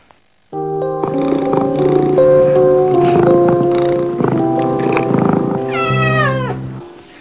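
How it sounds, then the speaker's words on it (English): A short melodic tune of sustained tones with a cat-like meow sound woven in, ending in a rising, wavering meow-like phrase. "I'll play you some music, some cat music."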